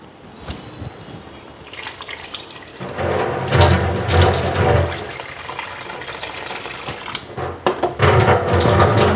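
Tap water runs steadily for washing fish heads in a home kitchen sink, with a rushing, splashing stream that starts softly, swells loud after a few seconds and surges again near the end.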